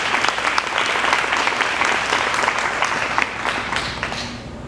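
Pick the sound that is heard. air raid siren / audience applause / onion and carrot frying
audience applause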